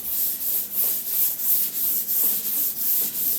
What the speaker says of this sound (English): 600 grit sandpaper. So I'm going to give it a light sand to scuff it up.